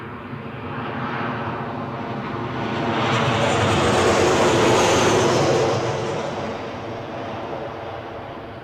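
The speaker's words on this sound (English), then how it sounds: "I think I can see the Jet 2 737 inbound from Alicante" A Jet2 Boeing 737 inbound from Alicante approaching Newcastle airport, its engine roar building from a distant rumble to a loud, broad peak midway and then easing off as it passes.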